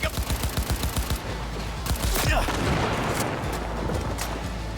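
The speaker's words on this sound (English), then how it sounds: "Some friendly fire going on over there." Bursts of rapid gunfire from a firefight in the video game Cyberpunk 2077 crackle in quick volleys, followed by scattered booms and heavy sustained rumble.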